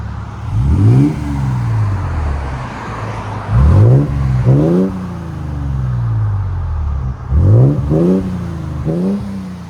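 A 2022 Toyota Tundra with a 3.4L V6 and Borla ProXS exhaust revs loudly outside in four sharp bursts, each rising and falling back to a steady rumbling idle.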